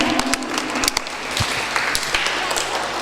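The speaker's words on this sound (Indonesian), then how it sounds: "Tepuk tangan." Hall audience applause at a children's Quran recitation competition for Isra Mi'raj as a winner is announced: a dense wash of clapping, fairly close and steady, with a few sharper individual claps standing out.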